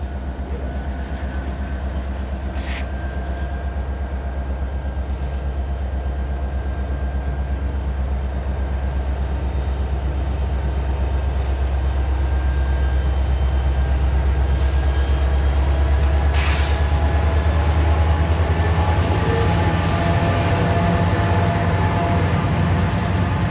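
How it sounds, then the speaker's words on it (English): A freight train rolls slowly past right beside the track, a steady, loud rumble of rail cars with faint clanks and squeals that swells gradually as it goes by. "here comes the choo-choo train"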